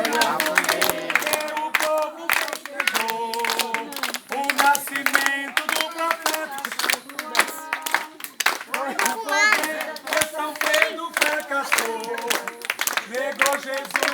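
Rhythmic hand clapping keeps time with a group singing a festive bonfire dance song at a community celebration, steady claps running under the voices throughout.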